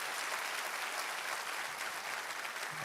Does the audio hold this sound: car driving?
no